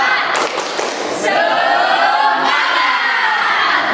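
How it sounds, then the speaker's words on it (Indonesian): Group of participants in a classroom session doing the rhythmic 'tepuk semangat' spirit clap: a few sharp claps at first, then loud shouting and cheering voices that carry on continuously to the end. "sebelum kita mulai, kita tepuk semangat dulu"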